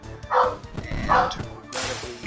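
A boxer dog barks twice in the background, loud, rough woofs about a second apart, while someone talks over them and a hiss of sizzling or running noise rises at the end.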